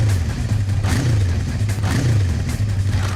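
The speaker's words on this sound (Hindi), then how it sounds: "रुको, हम तुम्हें कुछ बाइक्स की आवाजें सुनाएंगे।" A recorded motorcycle engine plays back, a loud steady mid-pitched idle and rev with slight pitch wobbles throughout, no talking.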